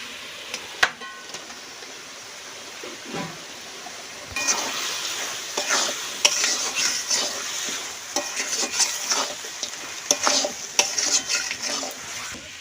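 Country chicken pieces dropped into fried whole spices with black and white cardamom for a village-style curry: a quiet start, then a louder sizzle from about four seconds with repeated clattering stirs against the pan, close up.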